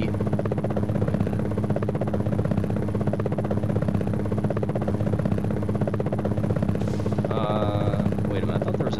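Attack helicopter in the combat flight game Gunship, a steady rotor drone and engine hum throughout, with a short electronic tone near the end and speech likely mixed faintly underneath.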